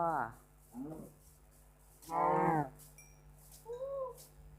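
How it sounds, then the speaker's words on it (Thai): A cow in Minecraft Pocket Edition gives several short, low moos spaced a second or so apart, close and moderately loud. "วัว"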